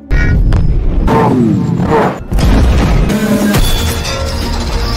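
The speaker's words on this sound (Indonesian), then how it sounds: "Sampai akhirnya kedua tank menembak bersamaan." Two tanks, a Soviet T-34 and a German Tiger, fire their cannons at the same moment in a film battle scene, giving loud, close booming blasts with a rumbling aftermath and a brief dip before a second heavy burst.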